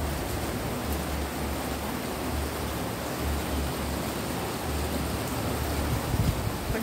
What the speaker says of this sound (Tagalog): Dito, sa gilid kay ang lakas ng ulan.